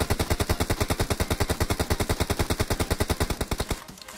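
Rapid automatic rifle fire from PUBG Mobile, a fast, even stream of about forty loud, close shots over roughly four seconds, stopping abruptly with no talk.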